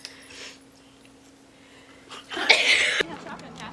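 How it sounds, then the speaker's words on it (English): A single loud sneeze bursts out near the end after quiet breathing and a faint sniff. "I really have to sneeze."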